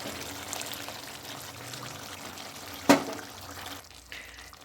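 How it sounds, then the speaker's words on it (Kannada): Water is poured from a vessel into a pot of chicken sambar, a brief splashing pour under a faint background hiss, followed by a sharp clink and quieter stillness. "ನಾನು ಒಂದು ಚಂಬ ಹಾಕ್ತಾಯಿದ್ದೀನಿ ನೀರು"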